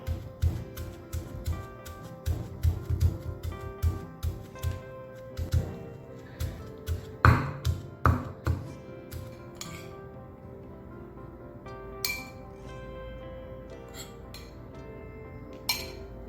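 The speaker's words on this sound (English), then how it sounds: "Gradually add grated coconut and keep bashing them." Grated coconut being pounded for Sri Lankan coconut sambol, heard as a steady run of close, sharp clinking and knocking strikes, busy at first and then thinning out to scattered taps.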